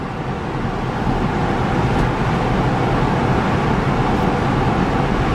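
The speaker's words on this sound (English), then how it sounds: "Right now we're going about 70 miles an hour" Inside a 2009 Smart Fortwo coupe cruising at about 70 mph, a steady broadband roar of road and wind noise fills the cabin, constant and fairly loud throughout, with no speech.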